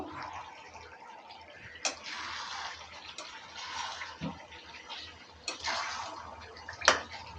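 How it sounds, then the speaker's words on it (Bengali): A spoon stirs boiled beef in a pot for kala bhuna, giving soft wet squelches and scraping with a few sharp clinks against the pot, irregular and close but fairly quiet, with no talk. "মাংসটা সিদ্ধ হয়ে গেছে এখন আমি শুধু নাড়ব একটু"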